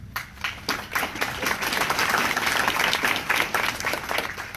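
A community meeting opposing the I-270 widening breaks into a burst of audience applause, many hands clapping, rising quickly to a full, steady level and easing off at the close.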